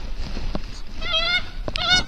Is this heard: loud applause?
no